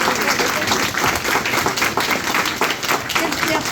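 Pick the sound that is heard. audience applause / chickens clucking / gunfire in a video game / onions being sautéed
audience applause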